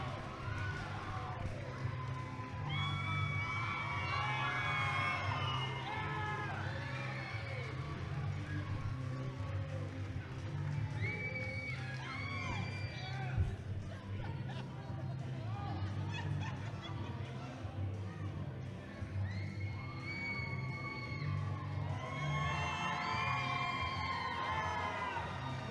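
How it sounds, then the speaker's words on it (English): A wrestling crowd at a Destination Pro event cheers and shouts for wrestler Kara after her win, a continuous roar of voices with commentary over it. "Cara getting her much due congratulations from the crowd here."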